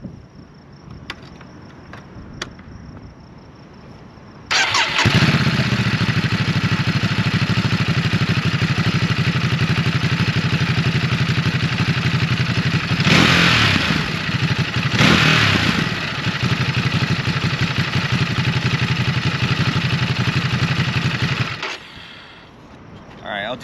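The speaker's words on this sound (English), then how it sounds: "this is gonna be the warm start. So the bike's already been warmed up." Stock exhaust on a 2021 Ducati Monster, already warm, starts up loud and close, then idles with repeated throttle blips to about 5,000 RPM, sharp revs rising over a steady rumble before it shuts off.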